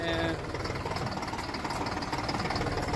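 Tractor diesel engine running steadily nearby, a continuous rough knocking drone with even pulsing throughout, no pause or change in pace.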